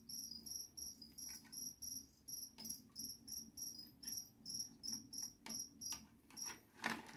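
Feeder crickets chirp in a steady, rapid pulsing rhythm, several insects trilling together up close with no talking.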